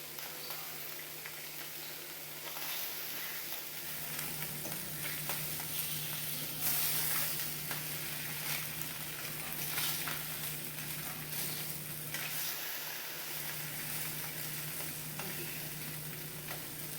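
Slices of Spam frying in a pan, an even close sizzle with faint crackles and a low steady hum underneath, continuous and uninterrupted, no speech.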